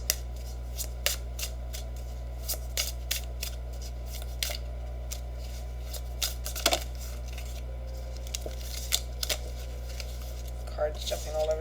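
Tarot cards being shuffled and spilling loose, heard as scattered soft flicks and riffling taps over a steady low hum, with a louder flurry partway through.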